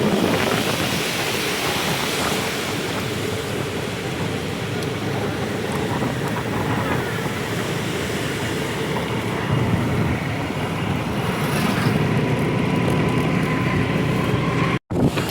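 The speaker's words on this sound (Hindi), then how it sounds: "इतनी भयंकर वाली आंधी आई है," A violent windstorm roars on a roadside along the Nainital road, a dense, unbroken rushing wash that stays loud and steady for about fifteen seconds, with gusts swelling near the end and a brief click just before it finishes.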